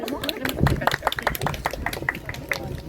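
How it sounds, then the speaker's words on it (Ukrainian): An audience claps for a child at a Polish community school celebration marking Polonia Day and Constitution Day, with a burst of scattered hand claps mixed with chatter and voices nearby. "Молодець, оплески"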